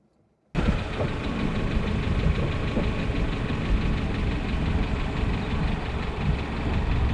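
A 1964 Volvo Amazon engine catches after a moment of quiet and runs loud and close, a rough, steady mechanical roar with a slight knocking rumble that holds throughout under extra throttle, with no speech.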